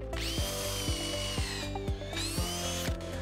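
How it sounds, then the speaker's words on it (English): A power drill bores holes in wooden boards with a steady, loud whine that dips under load, each dip marked by a short clunk, about every half second. No talk. "I'm gonna put two holes just to keep these boards when you join"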